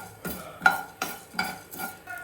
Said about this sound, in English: Now the kadai is hot. Add fenugreek seeds. Add mustard seeds.